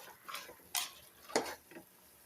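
Chili powder being stirred into beef curry in a pot, a few soft scraping strokes and light spoon clinks against the pot, quiet and close with no voices.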